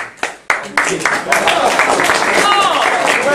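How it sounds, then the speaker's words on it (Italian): Students in a university physics lecture hall break into applause, a few scattered claps quickly swelling into steady, loud clapping from the room. "Bravo, tu, un applauso"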